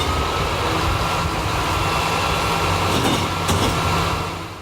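A garbage truck rumbles steadily past close by, a broad low roar with brief louder clanks near the end before it begins to fade.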